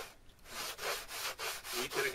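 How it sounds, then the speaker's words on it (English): Sandpaper rubs gently along the balsa wing leading edge of a SLEC Sky 40 model aircraft, a run of close, steady back-and-forth strokes with short pauses between them. "so out to the tip you have to take the leading edge down. Don't use any force, just gently, and let the sandpaper work."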